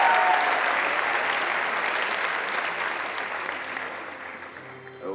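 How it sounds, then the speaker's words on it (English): An audience at a cosplay competition applauds, loud sustained clapping that gradually tapers off over several seconds. "Round of applause."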